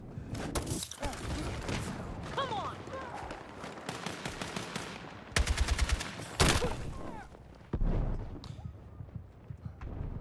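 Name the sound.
gunfire in video game Battlefield 6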